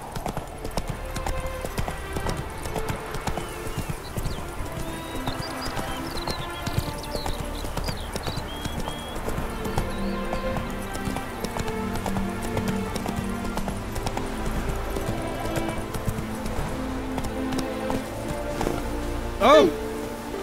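Roach the horse's hooves clip-clop steadily at a trot through The Witcher 3's game world, a continuous rhythmic patter close by under a busy bed of music and ambience, with a brief whinny-like sound near the end.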